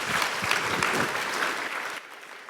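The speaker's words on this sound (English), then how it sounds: "Let's give a round of applause to our panelists." An audience at a cancer summit luncheon panel gives the panelists a warm round of applause, dense clapping that holds steady and then thins out near the end.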